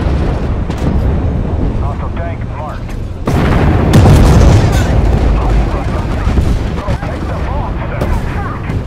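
Heavy gunfire and booming explosions hitting the player in a war video game, a dense, loud barrage of rapid shots and blasts that swells sharply midway and keeps pounding.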